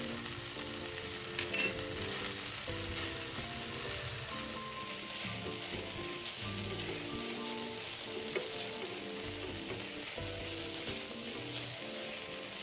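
Minced pork sizzles steadily in a pan with sesame oil and fresh red chili, a continuous close frying hiss with soft stirring scrapes throughout. A rhythmic tonal hum runs underneath, and nobody speaks.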